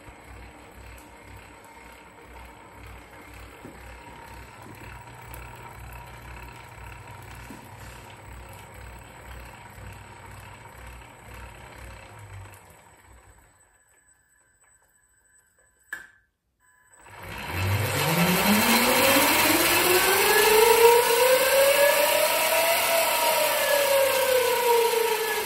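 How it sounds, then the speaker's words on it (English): An electric Harley conversion motor and controller running an auto-configuration: a low mechanical whir, a pause of near silence broken by a single click, then the motor spins up with a loud whine that climbs steadily in pitch and holds. "Here we are at the first motor and controller auto configuration."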